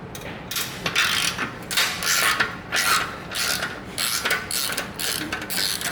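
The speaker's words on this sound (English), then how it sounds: "So take a wrench and loosen this clamp." Wrench loosening a tight exhaust clamp on a 2017+ Harley-Davidson Touring with Milwaukee-Eight engine, a close series of rapid ratcheting clicks in repeated bursts, with no voices.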